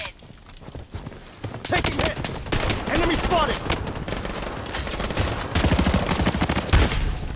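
Rapid bursts of automatic gunfire from the online shooter game Blood Strike, repeated volleys and single shots in quick succession, with someone talking excitedly in Thai over the shooting.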